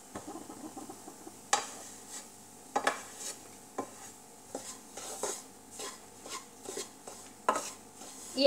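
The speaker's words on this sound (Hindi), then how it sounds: "इसको बराबर चलाते रहेंगे धीरे धीरे धीमी आंच में।" A spoon stirs atta halwa, a wheat flour sweet, in a pan over a low flame, giving soft irregular scraping and clinking knocks against the metal at a slow, steady pace, fairly quiet and close.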